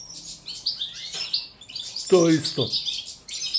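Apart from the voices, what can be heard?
female goldfinch (Carduelis balcanica) chirping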